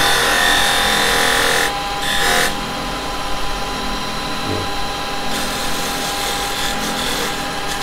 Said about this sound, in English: now as usual I use my little skew for parting